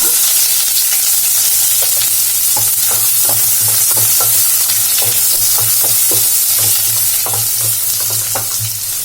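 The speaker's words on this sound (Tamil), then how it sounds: "வெங்காயம் வந்து நல்லா வதங்கட்டும்." Long-sliced onion frying in oil with spices for a mushroom pepper gravy, a loud, dense hiss of sizzling close up, punctuated by repeated scraping strokes of a spatula stirring the pan.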